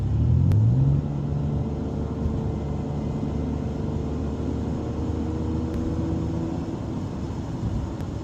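A 2009 Ford Escape with a muffler delete accelerating on a 45 mph road, heard from inside the cabin: a steady loud engine drone and road rumble with a rising tone at the start, no talk.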